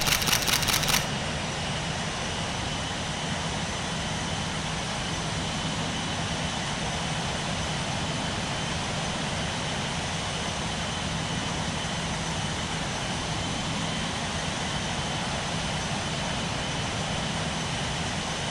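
Airliner landing at Manchester airport in RFS Realistic, a flight simulator game: a steady broad engine and wind roar that holds at an even level, opened by a brief click.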